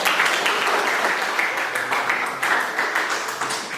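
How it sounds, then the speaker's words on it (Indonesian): Audience applause after a closing prayer at a community culinary event in Indonesia: a sustained wash of many hands clapping at moderate volume, fairly even with slight swells, continuing throughout. "Ya, tepuk tangan dulu"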